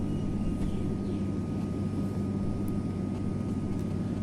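An airplane flying over the Brahmaputra river delivers a steady, loud, broadband engine drone and rumble that holds evenly throughout, with no talking.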